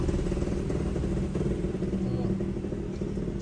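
A motorcycle passes on a rural road near Bolu market in Rantepao, its engine a steady rumble and clatter that holds close and loud for several seconds.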